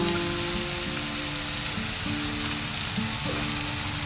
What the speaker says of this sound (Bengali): পেঁয়াজ কুচিগুলো ভালো করে একটু ভাজা ভাজা করে নেব।